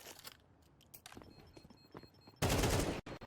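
Rapid bursts of AK rifle gunfire in Counter-Strike 2 during a competitive esports match, scattered single shots and short bursts leading to a loud sustained volley near the end, with clicks and game effects between them.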